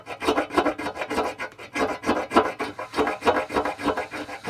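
Wood is rasped into fine dust for a bushcraft fire kit, a close, steady series of rhythmic scraping strokes, roughly three per second, heard alone.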